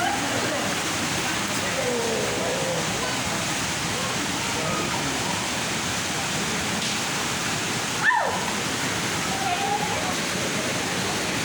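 A waterfall roars steadily and close throughout, a dense broadband rush of falling water by a river, with a brief knock partway through.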